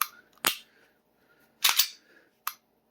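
A handgun trigger resetting gives a few sharp, close mechanical clicks, with a trigger pull and its reset heard as isolated snaps separated by silence.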